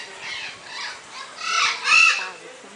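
Birds at the Parque das Aves bird park in Foz do Iguaçu give a series of harsh, raspy calls rising to a loud squawk near the end, close by, with voices talking around them.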